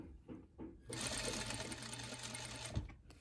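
A sewing machine stitches bias tape in a steady close whir lasting about two seconds, with soft handling clicks before it starts and a faint voice in the background.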